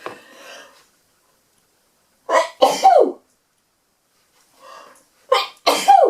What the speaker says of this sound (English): I'm going to sneeze like that.